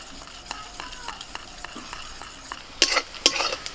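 Soy sauce, green chilli sauce, red chilli sauce and vinegar being stirred together in a hot sizzling wok, with a spoon scraping in a quick rhythm over a steady frying hiss, louder clanks near the end.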